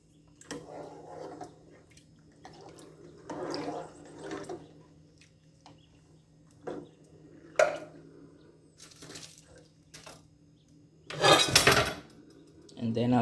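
A spoon scrapes and knocks around a cooking pot while coconut milk is stirred into Jamaican brown stew pork, giving sporadic soft clinks and one louder clatter near the end, with a person talking between the strokes.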